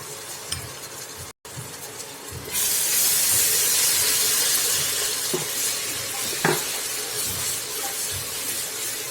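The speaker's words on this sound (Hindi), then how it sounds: "अब हम इसमें लहसुन अदरक का पेस्ट डाल देंगे।" Quiet frying of onions at first, then a loud burst of sizzling and steamy hiss as ginger-garlic paste hits the hot pan, with occasional stirring clicks underneath.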